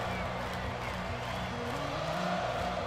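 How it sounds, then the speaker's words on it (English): Crowd noise in a college football video game, Miami Hurricanes against Michigan State, forms a steady loud stadium roar with a sustained din throughout. "You hear the crowd?"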